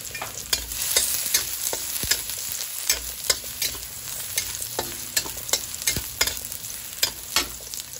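Garlic sautés in oil for pork adobo as a continuous close sizzle, broken by frequent rhythmic spatula scrapes and taps against the pan, with no speech.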